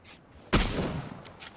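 A loud burst of gunfire from PUBG: Battlegrounds erupts suddenly and decays over about a second, followed by fainter distant shots, with no talking over it.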